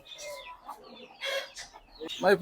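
A chicken clucks and makes short squawking calls several times, close by, with uneven pauses between calls.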